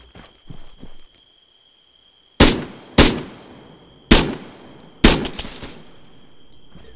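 Four loud, sharp gunshots crack out in ArmA 3, spaced roughly a second apart, each with a trailing echo, following a few faint clicks and footsteps against a quiet backdrop.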